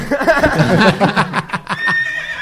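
A horse neigh sound effect played on a comedy podcast stage, a loud whinny with wavering pitch running about two seconds before fading into a brief tonal tail.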